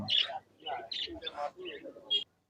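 Birds for sale at a large pigeon market in Khulna give short bright chirps and tweets in several bursts, heard close by among people talking.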